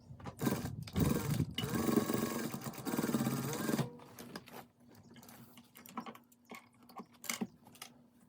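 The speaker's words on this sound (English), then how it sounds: "I am going to sew it into the curtain tape now." A home sewing machine stitches small pockets into curtain tape with a steady, close whirring run of about four seconds. It then stops, leaving quiet handling clicks and rustles.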